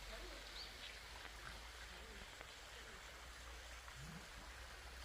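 A waterfall and stream feed a pond in a traditional Korean hanok garden, making a steady, faint rushing wash of water with a low constant rumble and a few soft bird or ambient touches.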